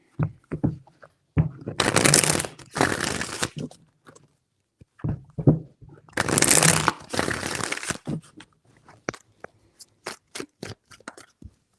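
Cards being shuffled in several quick riffling bursts, each a few seconds long, separated by soft taps and handling noises, close and fairly loud.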